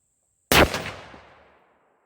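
Single SKS rifle shot fired at 25 yards on an outdoor range, a loud, close crack with a decaying rumbling echo, preceded by near silence.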